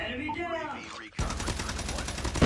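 A player talks briefly, then a loud, rapid burst of video game gunfire erupts and keeps going as a dense string of shots to the end.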